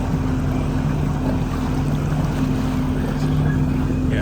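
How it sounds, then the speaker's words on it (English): A snorkel boat motor hums steadily nearby beneath wind and water noise at Crab Island, Destin, on the Gulf of Mexico, a continuous low drone that stays fairly even throughout. "Here comes another snorkel boat."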